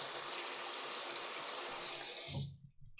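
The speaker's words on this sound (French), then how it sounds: "on rince le pinceau toujours à l'eau froide" Cold tap water runs steadily over a paintbrush as it is rinsed, a continuous close rushing splash that cuts off near the end, leaving a few faint drips and handling sounds.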